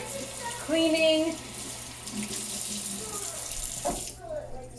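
Running tap water splashes into a sink as a cleaning cloth is rinsed beneath it, a close and moderately quiet stream with brief watery gurgles.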